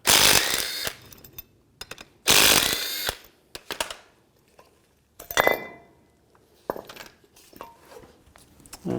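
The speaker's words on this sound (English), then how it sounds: "I'm going to take the bracket off the caliper, use a 13mm socket." Ratchet and 13mm socket working the brake caliper bracket bolts on a 1992-or-later Ford E-250 van, giving bursts of close metallic clicking and clinking separated by short pauses, with no talking.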